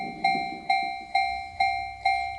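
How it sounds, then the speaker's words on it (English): Railroad crossing bell effect from a Yamaha PSR-E273 keyboard, five evenly spaced electronic dings, each a bright tone that decays before the next strike, played alone. "Back to the railroad crossing."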